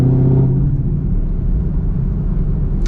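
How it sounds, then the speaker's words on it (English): A modified Chevy Camaro SS pulling away, a loud deep exhaust rumble with low engine tones heard close from inside the car, steady over a few seconds. "We are setting off here in this SS. Man, that exhaust."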